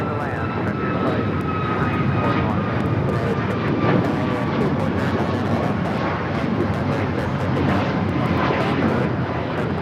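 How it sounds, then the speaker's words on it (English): An Alaska Airlines Boeing 737 MAX 9 jet takes off at LAX, bound for Los Cabos: a steady, loud engine roar fills the whole stretch, with a faint whining tone running through it, while voices talk over it in the background. "This is Alaska Airlines 332 taking off to Los Cabos on the MAX 9."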